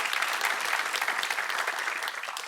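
Studio audience on a television quiz show gives a steady burst of applause, dense clapping that holds for a couple of seconds and then begins to fade at the end.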